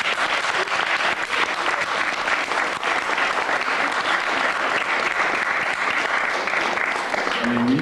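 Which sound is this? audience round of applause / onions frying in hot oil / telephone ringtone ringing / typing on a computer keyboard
audience round of applause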